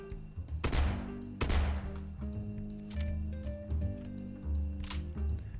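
Handcrafted modded scatterguns in Fallout 4 boom out several loud, separate shots, each with a sharp crack and a ringing, echoing tail, spaced a second or so apart, with no voices.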